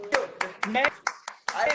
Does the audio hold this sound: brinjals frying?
no